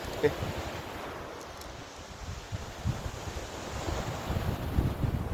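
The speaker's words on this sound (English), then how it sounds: "It's quite windy today." Strong wind buffets the microphone at the seaside in Hastings, a constant rumbling gusty roar with surf washing in the background.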